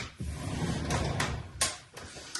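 A cluttered household drawer is pulled open, with sliding wooden rumble and several sharp knocks and clatters of items shifting inside, close and fairly loud.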